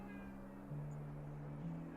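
A cat gives a faint meow from a short distance, a drawn-out tonal call rising briefly over a quiet room background.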